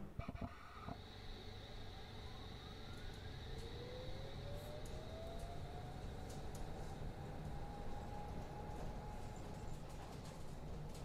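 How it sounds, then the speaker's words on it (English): A train in Train Simulator 2020 on the Uxbridge branch runs with a steady, continuous mechanical rattle and rumble, with faint rising whine tones above it and no voices. "you can hear some like new rattling sounds when the train's going"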